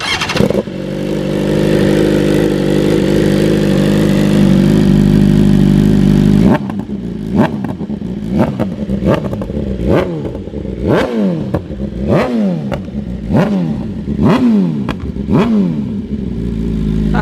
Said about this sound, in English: start this bad boy up, give you guys a couple revs since you love hearing this bike